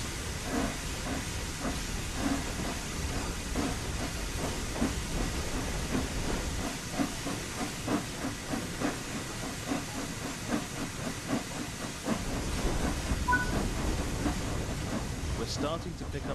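Steady hiss and chuff from the Flying Scotsman steam locomotive in Train Sim World 4 as power is slowly applied, with faint rhythmic beats and rail clatter under a constant wash of steam.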